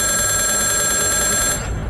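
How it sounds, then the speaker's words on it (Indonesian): A telephone bell rings steadily and loud for about a second and a half, then cuts off, leaving a low background hum; an eerie ringing for a horror story. "Lalu terdengar suara dering telepon."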